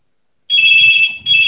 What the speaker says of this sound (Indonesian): Ini di sini ada telepon dari bawah.